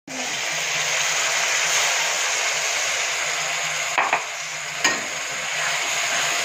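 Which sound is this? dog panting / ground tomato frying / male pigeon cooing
ground tomato frying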